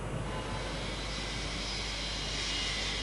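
A de Havilland Comet airliner named Canopus roars past in a Heathrow anniversary flypast, a steady broad jet rumble filling the air with no talk over it.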